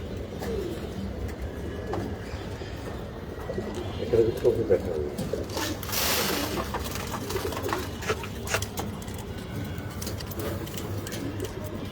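Pigeons on a pigeon farm coo softly in low throaty phrases, scattered through a steady background hum, with someone talking nearby.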